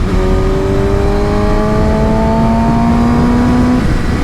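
A 2019 Kawasaki ZX-6R fitted with a Yoshimura Alpha-T exhaust pulls hard under a smooth quick shifter, its loud engine note climbing steadily in pitch on the open road with heavy wind rush and no talk.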